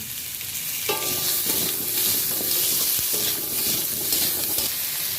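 Papaya pieces stirred and fried in a pan with little oil for a papaya and potato fish curry, a steady close sizzle broken by scraping stirs, with no talking.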